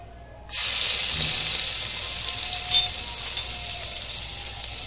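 A steady, bright sizzle of garlic frying in hot oil in a pressure cooker starts abruptly after a brief quiet moment and continues evenly throughout, close up, with no talking.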